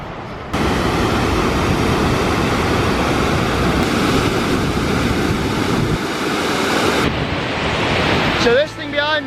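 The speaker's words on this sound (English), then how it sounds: "which is a waterfall of the reservoir." Cauldron Snout, a large waterfall below a reservoir, roars as a loud, steady broadband rush of falling water heard close up, with a brief voice near the end.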